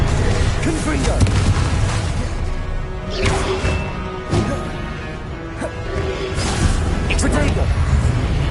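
Fiery Confringo blast spells from Hogwarts Legacy on PS5 burst repeatedly amid dense combat effects, with booming impacts spread across several seconds and a voice talking over much of it.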